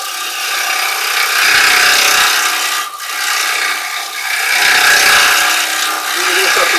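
Carbide chisel cutting a silver birch bowl spinning on a lathe, a loud continuous scraping rasp that swells and eases as the tool moves across the wood.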